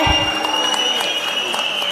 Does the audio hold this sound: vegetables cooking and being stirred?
no